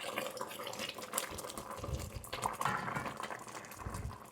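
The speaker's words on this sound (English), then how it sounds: "The heat's off of this and it's boiling like mad." Strawberry jam bubbles hard in a pot just after the heat is switched off, a steady close gurgle and popping of thick boiling liquid throughout with no voices.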